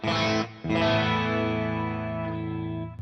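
Clean electric guitar amp tone through a Tonic pedal with chorus, two sustained chords ringing out, the second left to decay slowly, no talking.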